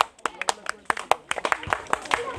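A small crowd at an outdoor prize-grabbing game claps in a loose, uneven burst of sharp hand claps for the game organiser, with talk carrying underneath.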